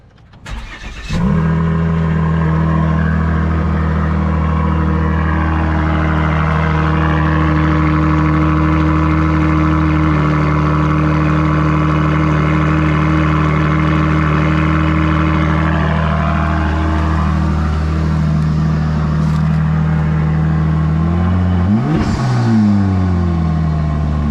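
Volvo S60 T6 engine cold-starting on a hot day, heard from inside the cabin: a quick crank, then a loud, steady high idle that slowly drops, with a brief rev dip near the end.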